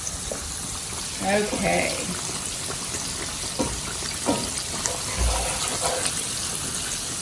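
Cornmeal batter spooned into a pan of hot frying oil gives a steady broadband sizzle throughout, with a brief voice and small clatters over it.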